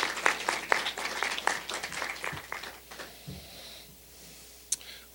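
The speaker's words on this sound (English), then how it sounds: "if we can give a round of applause" A pitch competition audience claps in a short burst of applause that fades out within a few seconds into quiet room noise, with a faint sniff and a click near the end.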